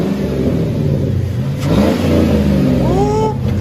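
A 2005 Chevy Silverado with a 5.3L V8 and straight-pipe exhaust revs loudly close by, its deep engine note rising and falling through a couple of throttle blips.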